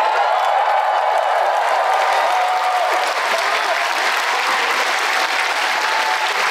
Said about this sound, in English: Stand up and give him a cheer.